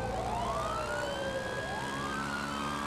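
Police sirens in GTA 5 roleplay, multiple wailing tones sweeping up and down and crossing each other, sustained and moderately distant over a faint bed of traffic rumble, with no voices.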